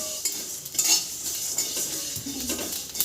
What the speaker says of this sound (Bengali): মশলাগুলোকে এখানে খুব ভালো করে শুকনো খোলায় ভেজে নিচ্ছি